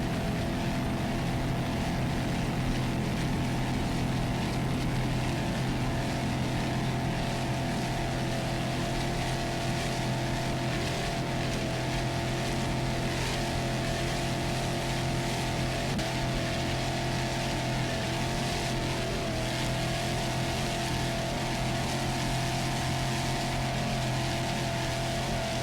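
A 30-foot Phantom powerboat races at the 2001 APBA Worlds with its engines at a steady, loud, continuous roar and broadband water and wind rush, unchanging throughout with no voices.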